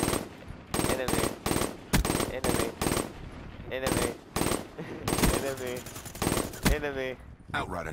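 Rapid automatic gunfire from Call of Duty Black Ops 3 beta multiplayer, loud repeated bursts in quick succession with short gaps between them, under brief in-game voice callouts.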